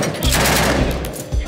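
Rapid gunfire from sniper positions during fighting in Libya, a dense, loud burst of overlapping shots with heavy low-end thumps and echo filling the whole moment.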